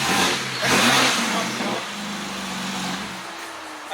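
A 2025 BMW G80 M3 engine revs loudly nearby, a strong surge in the first couple of seconds that then settles into a lower steady drone and slowly falls away.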